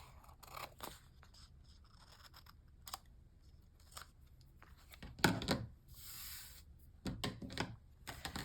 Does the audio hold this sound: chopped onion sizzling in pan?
no